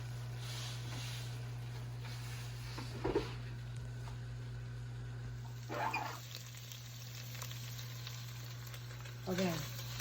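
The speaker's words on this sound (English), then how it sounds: "I'm going to finish browning all the meat" Ground meat browns in a pan for chili, a low steady sizzle running under a constant electrical hum, with a few louder scraping stirs of a utensil spaced through the stretch.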